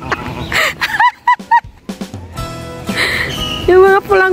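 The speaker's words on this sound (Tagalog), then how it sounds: "naririnig yung mga huni ng ibon" Birds calling in Kowloon Park, with sharp chirps and honking, goose-like cries close by, while people talk over and between the calls.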